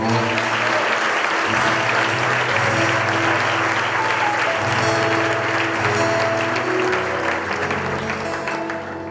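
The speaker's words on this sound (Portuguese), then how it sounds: "Aplaude ao Senhor" A church congregation applauds loudly and continuously for several seconds, many hands clapping in a sustained roar over a low held keyboard or organ tone, with voices faintly mixed in.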